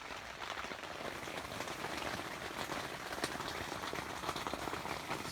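Steady rain falls at night outside a Jeep during cold winter overlanding and camping in eastern Ohio, a dense, even patter of drops on surfaces with faint scattered ticks throughout and no voices.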